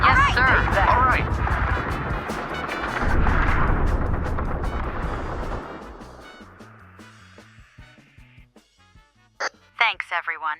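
Artillery fire sound effect on a Federation battlefield: dense, loud booming blasts and rumbling impacts pile up for several seconds, then thin into scattered sharper reports and crackles near the end, with voices mixed in.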